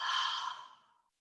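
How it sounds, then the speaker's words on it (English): A single long, deep exhale during a yoga nidra relaxation session, breathy and close, steady at first and then fading out over about a second. "I now invite you to take several long, deep breaths. Inhaling, big, long exhale."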